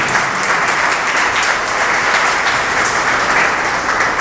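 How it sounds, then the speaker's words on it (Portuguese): A church congregation claps during a sermon, producing a loud, even wash of applause that holds steadily throughout with no speech on top. "Dê uma salva de palmas para o Senhor."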